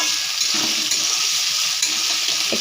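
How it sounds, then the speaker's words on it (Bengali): Chopped onion, green chili, capsicum, potato and carrot are stirred and fried in a pan, giving a constant hissing sizzle broken by soft scrapes of the spatula. No one talks. "পেঁয়াজ কুচি, কাঁচা লঙ্কা কুচি, ক্যাপসিকাম কুচি, আলু কুচি, সব কিছু, গাজর কুচি দিয়ে আমি নেড়ে চেড়ে নেব।"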